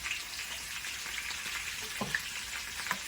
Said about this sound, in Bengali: আদা রসুন পেস্ট করা আছে একটু দিয়ে দিলাম একটু কাঁচা তেল ঢেলে দিলাম